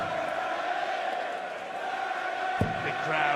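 A 10,000-strong darts crowd at the O2 in Dublin sings a player's name, a steady dense roar of voices filling the arena throughout, with a sharp thud near the end.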